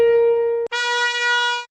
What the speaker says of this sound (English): is the sound of the instrument, piano versus trumpet.